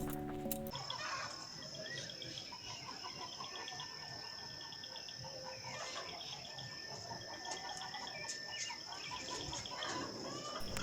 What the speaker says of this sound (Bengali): ঝিঝির আওয়াজ, মুরগির ডাক আর বিভিন্ন পাখির কলরব।